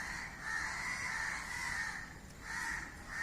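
Crows cawing nearby outdoors, a few harsh, drawn-out calls in succession with short gaps between them.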